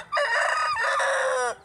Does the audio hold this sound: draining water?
no